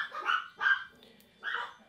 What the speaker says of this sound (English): Oh, fucking dogs are barking